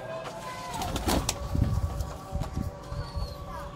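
Rooftop pigeons of a pure breed coo softly close by, a few low throaty calls over faint background noise.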